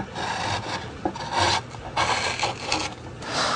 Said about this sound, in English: I'm using the gouge as a depth guide also